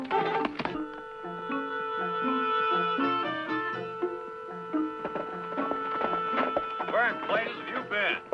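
Horse hooves clip-clop steadily beneath a prominent orchestral music score in a 1960s Western television drama; the hoofbeats stay fairly soft under the music.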